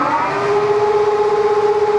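A 15-inch by 54-inch LeBlond engine lathe spins at close to 1,000 RPM, giving a loud, steady, siren-like mechanical whine with a sustained pitched tone and no talking.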